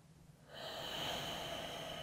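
Slow, controlled nasal breathing during a yoga lunge in a strength workout, a soft steady airy rush that swells after a quiet start and holds close to the microphone, with no talking.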